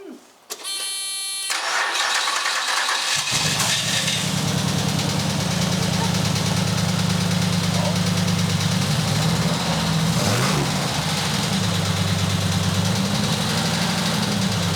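A Ferrari 328 fitted with an LS4 V8 engine cranks, catches with a roar, then settles into a deep, rumbling idle that continues steadily nearby.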